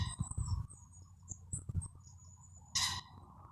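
A cock pheasant calls in short, harsh bursts outside a tent on a UK wild camp, fairly distant at first, then one loud burst near the end, over faint insect-like chirps and low rustling.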